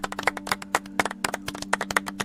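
A small group clapping a round of applause, sharp distinct hand claps in an uneven quick rhythm, close and fairly loud over a steady low hum.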